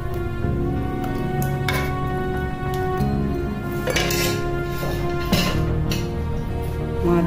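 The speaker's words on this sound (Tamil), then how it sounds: "இதை ஒரு கண்டெய்னரில் மாற்றிக்க போகிறோம்" Appam batter being transferred into a container comes through as clinks and scrapes of utensils against pots and vessels, irregular and close, over a steady kitchen background.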